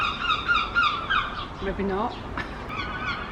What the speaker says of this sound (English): Oh my god, the seagulls are so loud.